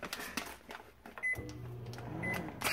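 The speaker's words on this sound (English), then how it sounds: "Oh, put it in the microwave." A microwave oven running with a low hum. Two short high beeps come partway through, among clattering and handling noises close by, with no talk.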